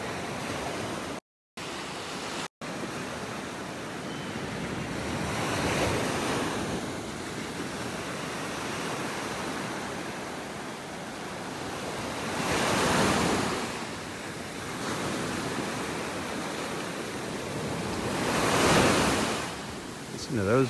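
Ocean waves break on a Florida beach in North Naples, with a steady wash of surf and wind punctuated by several louder crashes that swell and recede, the nearest building around thirteen and nineteen seconds; no talking.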